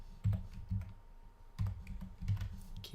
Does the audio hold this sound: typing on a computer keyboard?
yes